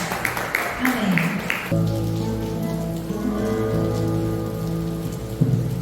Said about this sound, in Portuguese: Então aplaude Jesus bem forte.